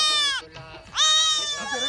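A goat kid born only a few hours earlier bleats on a farm in a Pakistani village, giving two quavering, wavering cries with a short pause between them, close and loud.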